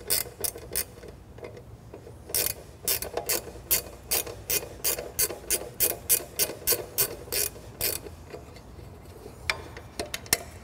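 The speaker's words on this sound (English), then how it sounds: "In order to access those connections, just simply remove the screw at the front of the box." A screw being backed out of the front wiring box cover on a combination brush/drum sander, heard as a long series of close, sharp mechanical ticks in an even rhythm with a few short pauses, no talking.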